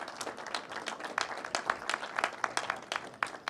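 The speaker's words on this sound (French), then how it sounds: "Vous pouvez aussi applaudir." Applause from an audience at an opening-evening science event, steady and fairly quiet, with scattered sharp claps across a continuous patter and no voices.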